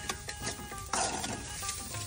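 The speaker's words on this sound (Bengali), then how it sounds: "পেঁয়াজ মরিচ ভাজা শেষ" Onions and green chilies fry in a pan at a fisherman's home kitchen in Manikganj, with a soft, steady sizzle broken by scraping stirs, fairly quiet and with no talk.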